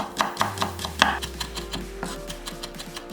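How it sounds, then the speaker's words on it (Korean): A knife chops whole garlic cloves coarsely on a cutting board, a quick series of light, close taps at an uneven rhythm. "통마늘 3알은 살짝 굵게 다져서"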